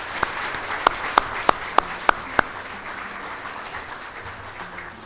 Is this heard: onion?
no